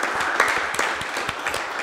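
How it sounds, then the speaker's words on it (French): Short burst of studio audience applause on a Lubumbashi television game show, close and fairly loud, with quick overlapping claps throughout. "Merci de l'accueillir et de l'applaudir."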